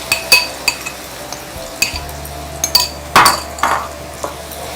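Ground chammanthi chutney mix being moved into a pan to make chammanthi rice, with a metal utensil clinking and scraping against the pan in sharp, irregular taps, close and alone.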